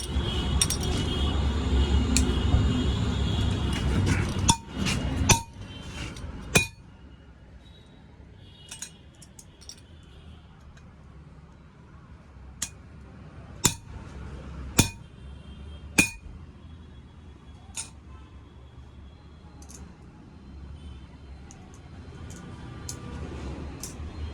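Leather linings are riveted onto an Arjun 605 Di Ultra-1 tractor clutch plate in a workshop, with sharp metallic hammer strikes spaced irregularly over a low shop hum.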